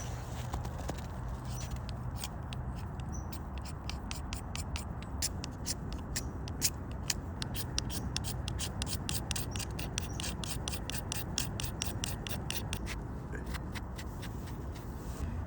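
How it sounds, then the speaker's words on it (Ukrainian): Rapid, steady scraping as a blade shaves a magnesium fire-starter rod, a dense rasping run of fine strokes lasting throughout, close and fairly quiet, with no talk. "Зараз ми спробуємо настругати стружки."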